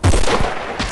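A sniper rifle shot fires in a shooting video game, a loud, sharp, booming report right at the start with a rumbling tail. A second, fainter burst follows near the end.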